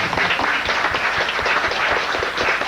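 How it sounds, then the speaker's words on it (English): Applause at a North Little Rock city council meeting, a modest crowd clapping in a brisk, slightly uneven patter, fairly close and steady for a few seconds without talk. "an opponent, in addition to Alderman Berry, I think we ought to give them an applause."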